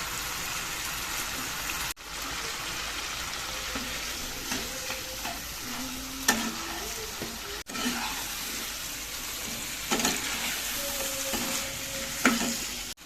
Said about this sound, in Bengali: এবার ভেজে রাখা মাছের মাথাগুলো দিয়ে দিচ্ছি